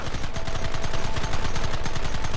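Rapid gunfire in the Western video game Red Dead Redemption, dense volleys of shots and machine-gun bursts crackling continuously and loudly throughout.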